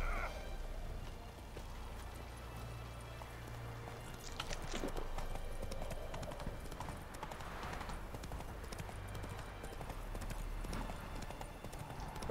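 Roach, the horse in the video game The Witcher 3, trots with rhythmic clip-clopping hooves, faint but steady, and a brief neigh partway through.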